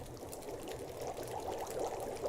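Water pours steadily into a container in The Long Dark, a continuous close liquid stream with a gurgling, filling texture throughout and no voices.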